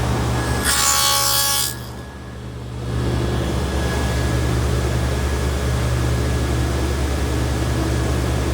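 A table saw fitted with a 1/4 inch dado stack cuts a groove in a wooden jewelry box tray divider: a short, loud burst of cutting, then a steady machine hum that runs on alone to the end.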